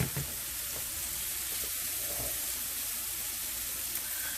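Corn sautéing in a pan with steady close sizzling and frying crackle, a few soft stirring scrapes near the start, no voices.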